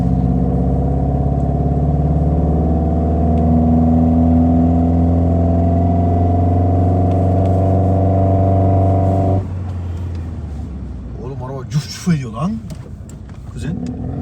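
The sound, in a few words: old rally car engine revving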